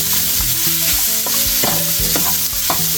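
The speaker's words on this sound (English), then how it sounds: "so now we're going to add the broccoli." Shrimp frying in a pan as broccoli goes in, a steady loud sizzle with repeated stirring scrapes and clatter of a utensil against the pan, no voices.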